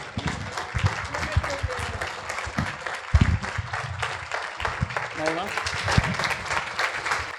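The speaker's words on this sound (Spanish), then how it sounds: "despedimos a Néstor Palmetti con este aplauso" Audience applause at the close of a talk by writer Néstor Palmetti, dense steady clapping of a large crowd sustained throughout, with some speech murmur mixed in.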